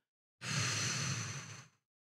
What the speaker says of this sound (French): On bloque légèrement notre respiration et en soufflant par la bouche, on va poser devant nous.